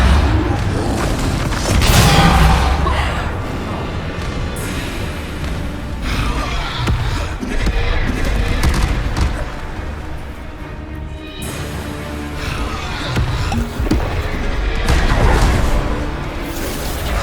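Bombarda spell blasts go off in the Hogwarts Legacy video game as repeated loud crashing explosions. Heavy bursts stand out near the start, middle and end, over a continuous clattering of combat effects.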